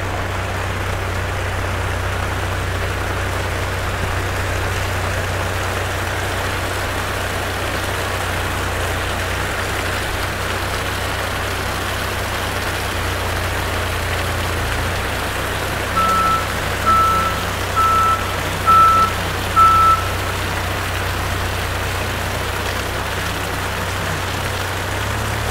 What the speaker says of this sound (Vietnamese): Bây giờ thì em cho vận hành xúc đào mũ cao su tại nhà máy luôn nhé.